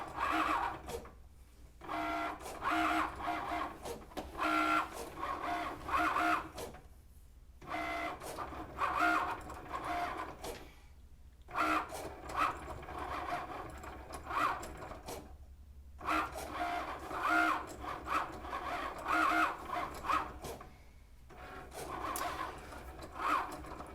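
A vinyl cutting machine slices a vinyl sheet with fairly quiet, repeated whirring motor passes broken by short pauses between strokes.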